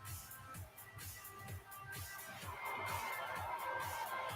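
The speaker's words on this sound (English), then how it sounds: "Crowd giving her an earful." A large wrestling arena crowd in a video game jeers at Charlotte with a continuous roar of booing and shouting, swelling louder midway and holding as a dense wash.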